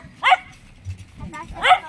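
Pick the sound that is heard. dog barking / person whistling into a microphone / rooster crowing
dog barking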